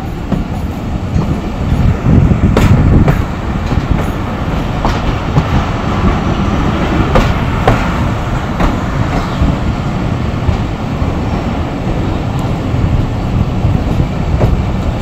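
A passenger train hauled by locomotive GEU 9036 runs at speed near Sahiwal station in Pakistan, giving a steady, loud rumble with rhythmic clickety-clack from the wheels throughout.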